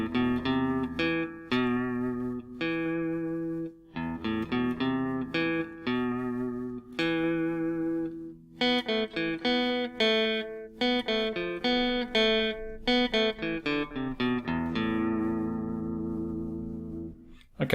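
An electric guitar plays the second half of the B section of an instrumental: clean, clearly picked single notes and short phrases with ringing sustain and brief pauses, close and alone with no talk.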